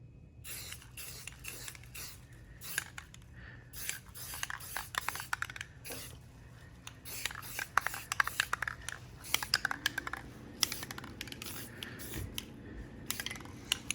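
Paint is sprayed onto a Safariland holster body in quick, short hissing spritzes, close and irregular, mixed with light handling rattles over a quiet background.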